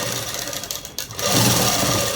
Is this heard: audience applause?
no